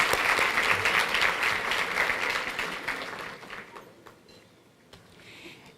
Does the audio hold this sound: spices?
no